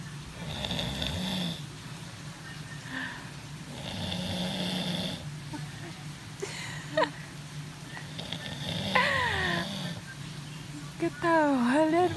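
A person snoring in steady repeated breaths, each rasping inhale rising and falling, fairly close and moderately loud, while others talk and laugh nearby.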